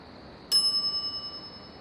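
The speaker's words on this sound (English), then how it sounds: "some idiot's already ringing that stupid bell" A shop counter bell in the Monkey Island video game gives one bright metallic ding that rings on and fades out slowly with a soft pulsing shimmer, heard alone against quiet background hum.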